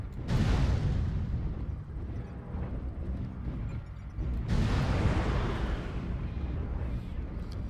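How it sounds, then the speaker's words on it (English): Artillery strike explosions in MechWarrior Online rumble in two heavy, booming waves, each a loud deep blast that trails off into a long roaring decay. "Artillery strike online."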